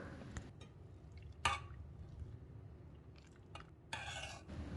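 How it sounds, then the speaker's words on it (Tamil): Black urad dal dosa batter is stirred gently in a bowl, giving soft wet squishes and occasional spoon clinks against the vessel, quiet and close with short pauses between strokes. "நல்லா அடித்து கலக்காமல் இந்த மாதிரி சாஃப்டாகவே மிக்ஸ் பண்ணிக்கோங்க"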